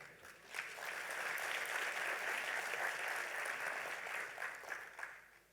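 Applause from an audience at an opening ceremony, a steady wash of many hands clapping, rising quickly, holding evenly, then tapering off.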